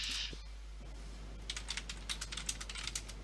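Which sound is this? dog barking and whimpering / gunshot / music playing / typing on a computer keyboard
typing on a computer keyboard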